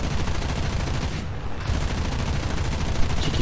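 A Yak-1's 12mm cannon fires a continuous, dense stream of rounds at a Ju-88 in an aerial combat video game, loud and sustained over engine drone with a brief dip in the middle.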